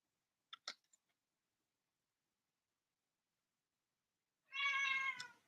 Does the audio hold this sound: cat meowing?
yes